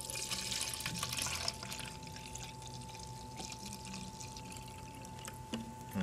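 Flushing solution pours into a bottle in a direct-to-garment printer maintenance setting, a steady close liquid stream running throughout with a faint constant hum behind it.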